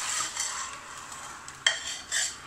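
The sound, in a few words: meat frying with salt in a pot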